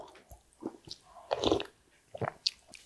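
Close, crisp crunching bites of crunchy scorched rice (nurungji) with wet chewing in between, a handful of irregular crackly bursts with no talking.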